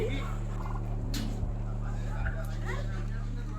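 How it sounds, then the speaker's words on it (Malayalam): Low, resonant booming calls from an emu pulse steadily nearby, with faint background noise around them, at an elephant park in Kollam. "ലോകത്തിലെ ഏറ്റവും വലിയ രണ്ടാമത്തെ പക്ഷി യമു ഇതാ ഇവിടെയും"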